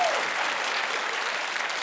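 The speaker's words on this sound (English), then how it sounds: "Thank you for that desultory ripple of applause" A studio audience breaks into a thin, scattered ripple of clapping at a panel comedy show, steady and moderately loud across the whole short stretch with no voices over it.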